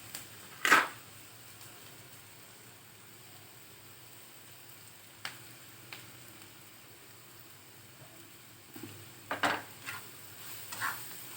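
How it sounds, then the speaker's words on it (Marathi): Onion and green chili being stirred and sautéed for egg bhurji at home: quiet scraping stirs come in a few short bursts, one near the start and a cluster toward the end, over a faint background sizzle. "सगळं हे एकत्र आपण चांगलं परतून घेणार आहोत।"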